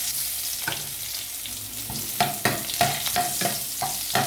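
Onion tossed into a pan of vegetables frying for a low-carb dish, giving a steady sizzle that flares with several sharp stirring scrapes and clatters in the second half.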